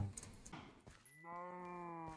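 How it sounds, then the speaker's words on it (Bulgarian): A cow lows once in the video game Minecraft, a drawn-out, fairly close moo that follows a few soft scuffing in-game sounds, with no talking over it. "Добре, първа крава. Втора крава."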